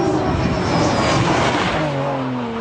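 A tuned car pulls away from a Japanese tuning shop, its engine a steady, loud rumble with a rising tone as it accelerates, carrying through the whole stretch with no talk.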